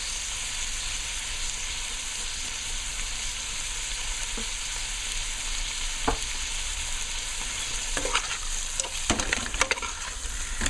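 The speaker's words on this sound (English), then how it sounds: "let it blend with the masala and let it just fry" Gilbaka fish fries steadily in masala in a pan, a continuous hiss and sizzle at moderate loudness, with occasional clinks and scrapes of a utensil stirring toward the end.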